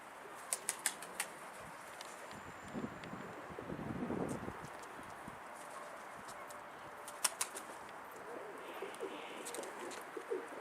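A Tutak dolapçı pigeon moves about nearby outdoors, giving a few soft coos and brief bursts of wing flapping over a steady faint background hiss, with several sharp clicks scattered through.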